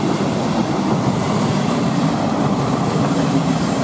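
An ETR521 regional express train running on the Brenner railway, a steady loud rumble of wheels and carriage noise with faint clickety-clack, close by and continuous throughout with no talking.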